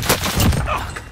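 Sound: gunfire in a video game (Warzone Rebirth)

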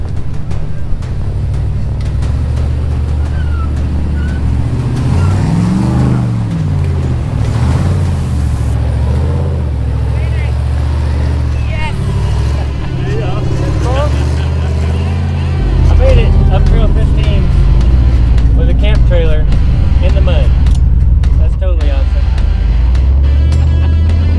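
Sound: off-road vehicle driving hard up a trail

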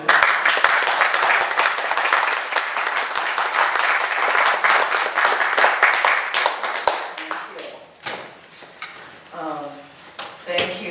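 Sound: audience applause for award recipient

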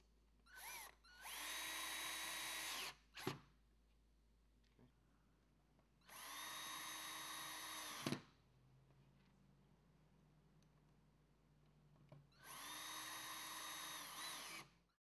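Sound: screws driven through ball stud plate into T-nuts

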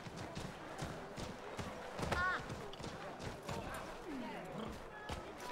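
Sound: horse hooves clip-clop in video game Assassin's Creed 3

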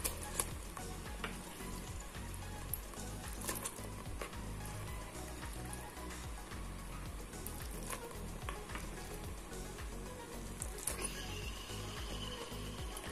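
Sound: beef frying in masala with curry leaves

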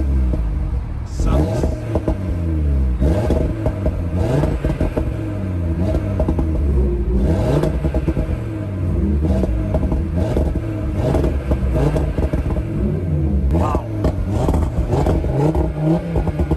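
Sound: Audi RS3 engine revving in dynamic mode

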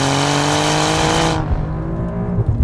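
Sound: 2020 Alfa Romeo Giulia Quadrifoglio engine through a corner

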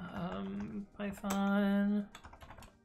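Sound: typing on a computer keyboard

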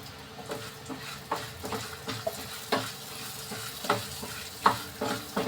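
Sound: dry spices frying on low flame for trotter soup

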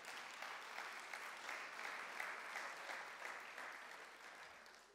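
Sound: applause

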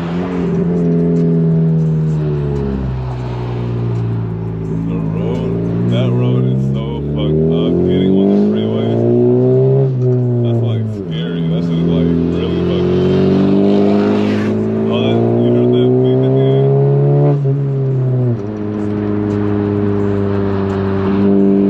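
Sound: loud Honda Civic Si engine while cruising in LA

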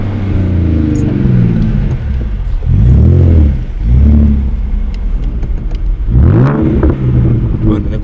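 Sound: car engine roaring

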